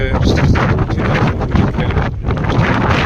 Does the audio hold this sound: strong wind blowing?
yes